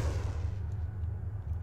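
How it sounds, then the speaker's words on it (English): A TOW missile launched at a tank in a military video game, a heavy low boom and rumbling roar that fades over a second and a half, with no talking over it. "Permission to fire the tow."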